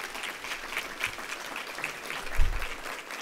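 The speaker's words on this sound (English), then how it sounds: "Give her a huge round of applause." A crowd at a business conference session applauds a person called out from the back of the room, steady clapping filling the space with a brief low thump near the end.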